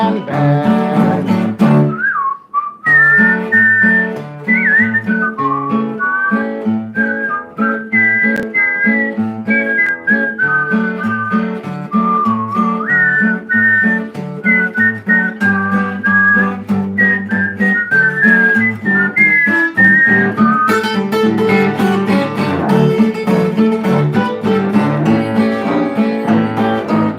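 A tune whistled by one person, a clear, continuous melodic line moving up and down over a backing of instrumental music, loud and close throughout.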